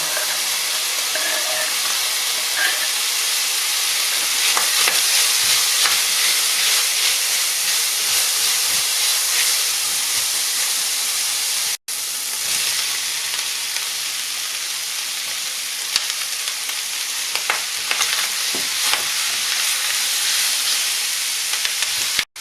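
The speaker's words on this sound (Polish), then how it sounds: "Patelnia już się dobrze rozgrzała. Teraz do boczku dorzucę cebulę." Steady, loud sizzling and hissing of onion frying with bacon in a hot pan, continuous for the whole stretch with occasional crackles and stirring.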